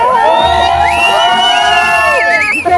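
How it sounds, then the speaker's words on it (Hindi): A crowd packs the gate at a Pahadi wedding, heard from a distance: a loud, constant din of cheering and shouting voices with high whoops rising over the mass. "गेट पे ना काफी भीड़ भाड़ वाला माहौल हो रखा है"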